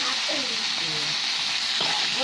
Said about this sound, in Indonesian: dan digoreng gitu aja.